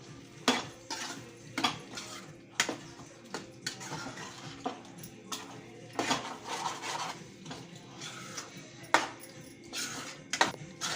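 A spoon stirs kurma curry ingredients in a metal pot, with repeated clinks and scrapes against the pot at an uneven rhythm, fairly quiet and close.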